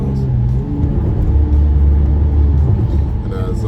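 2014 Dodge Charger SE with a modified exhaust cruising on a slightly bumpy road, its engine a steady, close low drone with gentle revving swells, running without interruption.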